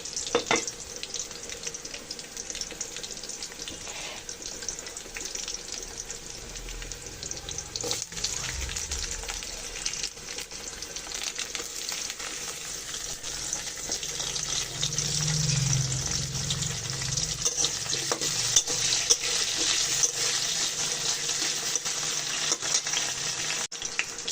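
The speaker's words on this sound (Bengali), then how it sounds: "আলু টমেটো কাতলা মাছের ঝোল তরকারি রান্না করার জন্য পেঁয়াজ ভেজে নিচ্ছি, এর ভিতরে আলুটাও ভেজে নেব" Onions and potatoes fry in a pan for a catla fish and tomato curry, giving a steady, close sizzle and hiss that continues for over twenty seconds with no talking.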